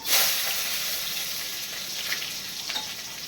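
Fennel seeds, cinnamon, bay leaf and onion fry in hot oil, giving a steady close sizzle with soft stirring scrapes throughout and no voices.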